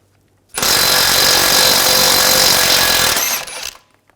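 A power tool fitted with an 18mm socket spins out a tie rod end bolt on a 2011-2018 Volkswagen Jetta, one loud, harsh, rattling burst lasting about three seconds that starts abruptly and then winds down.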